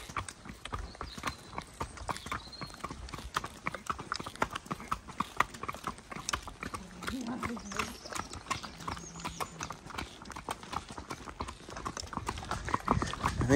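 Horses walk along a road, their hooves clip-clopping in a steady, overlapping rhythm close by, with a brief whinny, light tack rattle and people talking over the hoofbeats.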